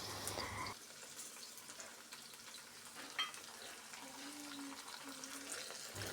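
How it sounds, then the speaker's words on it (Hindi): Okra with split chickpeas stirred and frying in a pan, heard as a quiet constant sizzle with occasional scraping, starting after a brief louder burst and staying close and faint. "भिंडी डालने के बाद इसे अच्छे से एक बार मिक्स कर लेंगे।"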